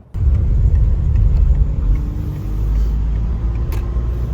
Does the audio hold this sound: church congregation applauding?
no